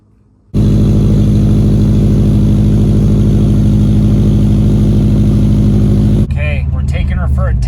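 A lowered, bagged Subaru Forester on a test drive: the engine kicks in abruptly and drones loud and close at a steady pitch, then its tone shifts near the end as someone talks.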